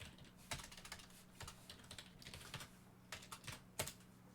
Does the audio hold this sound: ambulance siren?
no